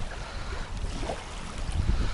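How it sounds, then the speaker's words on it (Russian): Strong wind sweeps across a lake during perch fishing, a steady close roar buffeting the microphone and swelling louder toward the end, with no talking. "Ну ветер, конечно, жесть, блин"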